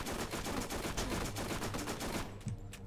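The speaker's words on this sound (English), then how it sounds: "Oh, there's someone else shooting at me." Enemy gunfire in the Borderlands shooter game, a dense, continuous rattle of rapid shots that stays loud for most of the stretch before thinning out near the end, with no voices.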